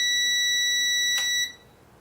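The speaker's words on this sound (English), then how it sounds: "and then when I press the button, it beeps." A steady electronic beep tone holds for about a second and a half, then cuts off, leaving quiet background hiss.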